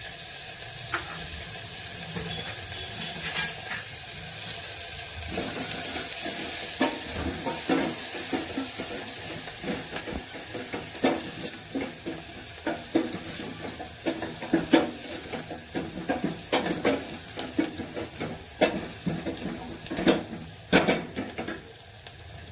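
Onions sauté in hot oil with hing, methi, chilies and curry leaves, a loud continuous sizzle broken by repeated sharp clatters of a spoon stirring in the pan, with no talking.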